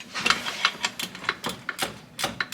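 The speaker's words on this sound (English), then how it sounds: "You take your fancy dancy blue point, ratcheting, make sure it's on tighten." Blue Point ratchet tightening motor mount bolts during a K24 engine swap into an S10, a rapid run of close, crisp metallic clicks in an uneven rhythm, heard alone.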